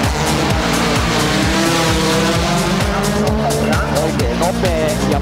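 Rally cars at the 2007 ADAC Rally Deutschland blast through narrow town streets, engines revving up and down loudly while tires squeal through corners, with a commentator talking over the continuous racing noise.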